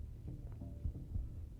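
Heartbeat cue from Assassin's Creed Brotherhood multiplayer on PC: soft, low thumps pulsing beneath a quiet game-ambience hum, no one talking.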